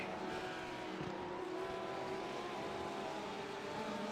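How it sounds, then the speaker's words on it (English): A faster class race car approaching in an IMSA endurance racing game while driving a Lamborghini, a continuous engine drone with layered harmonic whine holding steady at moderate loudness. "there's a faster class car approaching"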